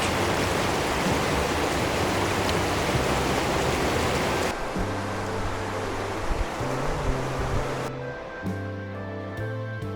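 Steady broadband rush of a mountain creek in silver beech forest, loud and continuous throughout, like a stream tumbling over rocks, with some low hum and tonal sounds joining partway.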